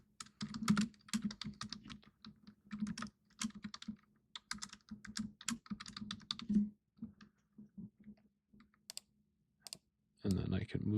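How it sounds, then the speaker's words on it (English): Computer keyboard typing in a brisk, irregular run of close clicks and keystrokes, briefly pausing near the end, where a short burst of broader noise follows. "I'm just going to type in average ticket prices."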